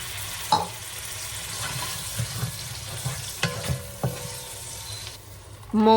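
Whole spices heat in oil as a fenugreek and ginger paste fries in a pan, making a soft, steady sizzle broken by scattered stirring knocks and a few metallic clinks, with a louder burst at the end.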